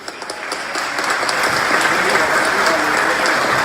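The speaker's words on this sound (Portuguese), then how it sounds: "também recebendo o aplauso de vocês." Applause from an audience at a football club's consular gathering swells from scattered claps into a full, steady round of clapping that holds to the end.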